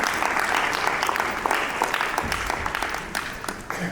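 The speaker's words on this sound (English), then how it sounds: "welcome with a big round of applause" Steady applause fills the hall at a summit's inaugural session as a guest is welcomed, a sustained dense clapping with a few louder individual claps standing out.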